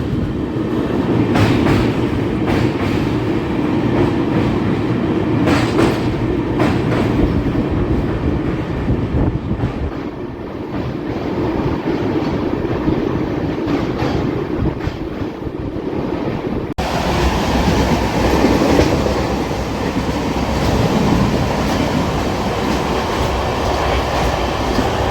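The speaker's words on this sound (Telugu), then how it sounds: "అదిగోండి మన ట్రైన్ స్పీడు 130 మ్యాక్సిమం కొట్టేసింది" Amrit Bharat 2.0 Express on its inaugural Thiruvananthapuram–Charlapalli run, travelling at about 130 km/h: a loud, steady rumble and rattle of the wheels and carriages that continues unbroken for the whole stretch, with no voices.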